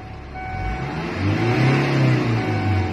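A car engine revs up into the red zone on the tachometer, the pitch climbing and holding high before easing slightly, loud and close with no voices, during an emissions test of a car with no oil change or tune-up.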